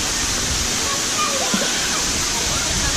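Kawasan Falls in Bohol pours steadily, a dense, loud, unbroken rush of falling water that fills the whole stretch with broadband roar.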